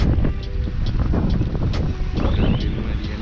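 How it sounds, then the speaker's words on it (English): Gusty wind buffets the microphone outdoors at dusk during an RC car run, with a heavy, low rumble, punctuated by occasional faint knocks and creaks. "Getting windy and dark."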